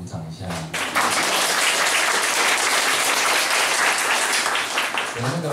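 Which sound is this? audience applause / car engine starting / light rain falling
audience applause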